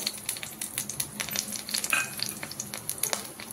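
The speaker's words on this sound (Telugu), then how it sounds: "ఆవాలు, జీలకర్ర, మినప్పప్పు, శనగపప్పు అండి పోపు వేసేసుకోవాలి" Mustard and cumin seeds, with urad and chana dal, sizzle and pop in hot oil, rapid irregular crackles over a soft frying hiss, close and clear.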